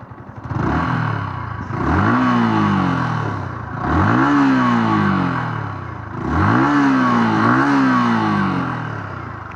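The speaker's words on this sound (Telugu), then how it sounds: "ఎగ్జాస్ట్ నోట్ కావాలి కదా మీకు, ఎగ్జాస్ట్ నోట్ ఇచ్చేస్తాను" A Yamaha XSR 155 motorcycle revs up close with no one talking, its exhaust note climbing and falling back three times in steady, loud pulses.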